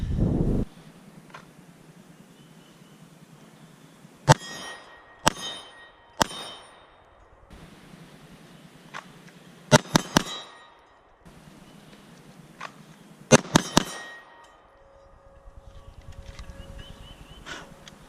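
SIG P320 pistol shots fired in a series of sharp, loud cracks, single and in quick pairs and triplets, with short pauses between groups and faint ringing metallic clangs from steel targets.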